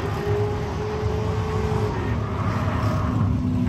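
A race car circulates on a track at an autofest event, its engine droning steadily and loud at close range with a sustained tone that shifts slightly in pitch, no talk heard.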